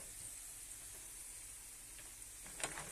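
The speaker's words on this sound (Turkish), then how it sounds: "Burada bademimi soteliyorum" Almonds sauté quietly in a pan while making Divriği pilaf, with a soft, steady sizzle and a brief clink near the end.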